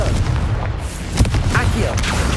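Booming blasts of the Confringo fire spell in Hogwarts Legacy, a dense, loud wash of game effects and explosions filling the whole stretch, with a player's voice calling spell names over it.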